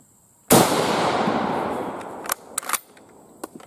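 A single sharp rifle shot from an Italian M38 Carcano in 6.5x52, a loud crack followed by a long decaying outdoor echo, then a few small metallic clicks and knocks.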